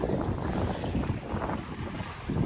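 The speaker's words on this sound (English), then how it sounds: "We are sailing along at a nice pace. Hydrovane set." A sailboat moves along at a steady pace with sails up and a Hydrovane self-steering set, a constant rush of wind and water washing against the hull, close and without voices.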